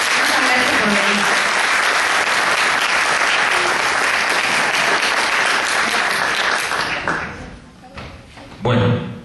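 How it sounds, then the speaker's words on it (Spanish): A room full of people applauds loudly for a guest speaker at a talk on human rights and student movements in Paysandú, the clapping sustained then fading, with a short burst of sound near the end. "un fuerte aplauso por el invitado"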